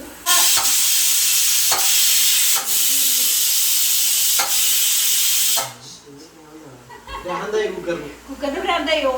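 Onions sautéing in a pressure cooker give a loud, steady sizzling hiss for several seconds, broken by a few brief dips. The hiss then drops away and a voice talks over quieter frying.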